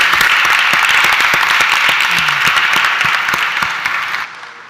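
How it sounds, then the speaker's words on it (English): A conference audience applauds a panel, producing steady, dense clapping that fills the whole stretch and cuts off near the end. "please join me with a round of applause to all of them"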